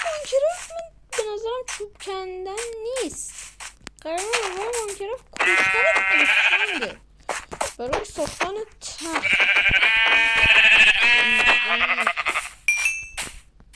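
Minecraft sheep bleating repeatedly in short wavering calls, near and clear, alternating with longer loud stretches of sound.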